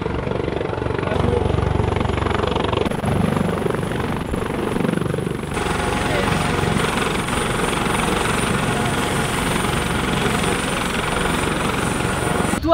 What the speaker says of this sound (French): Donc là, on va assister à l'appontage d'un hélicoptère.